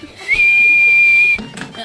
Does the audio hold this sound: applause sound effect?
no